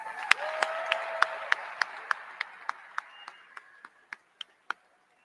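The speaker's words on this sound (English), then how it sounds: "How about a round of applause for Robin Cook?" Sharp, evenly spaced claps ring out one at a time at a university hockey championship homecoming celebration in a fieldhouse, about fifteen crisp hits that slow slightly and fade toward the end.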